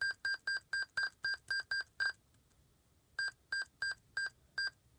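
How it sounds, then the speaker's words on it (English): A computer with a disk read error beeps repeatedly before showing a blank screen: a rapid run of about eight short, even tones, a brief pause, then about six more, clear and fairly close in a quiet room. "Now I got a beeping noise."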